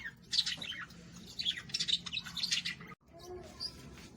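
Budgies in a breeding cage give rapid, quiet chirps and chatter in a close, continuous flurry, pausing briefly before resuming.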